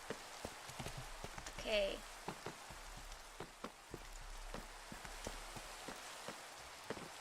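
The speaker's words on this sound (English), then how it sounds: "I could really do with this rain stopping." Rain falling in the video game Minecraft, a faint steady patter with scattered louder drop taps, under a brief spoken word.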